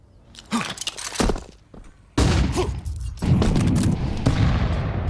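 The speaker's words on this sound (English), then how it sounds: "Well-timed nade." A grenade bursts with a heavy boom partway through a competitive Counter-Strike-style esports match, amid scattered gunfire, footsteps and thuds, with the blast leaving a sustained rumble afterward.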